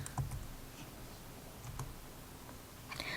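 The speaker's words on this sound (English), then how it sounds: "My teller days are coming into play with typing these numbers." Numbers being typed on a computer keyboard in a quiet room, a few scattered light key clicks at an irregular pace, close and soft, with no talking.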